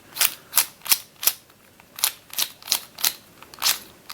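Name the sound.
twisty puzzle cube being turned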